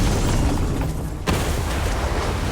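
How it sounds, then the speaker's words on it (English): A Hell Cannon explodes in DOOM: The Dark Ages: a loud, dense blast of broadband roar with one sharp burst about halfway through, sitting over continuous heavy game noise that never drops away. "One Hell Cannon destroyed."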